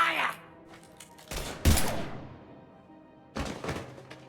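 Gunfire in Mass Effect 3 comes as a couple of short, loud bursts of rapid shots with thuds, separated by quieter pauses.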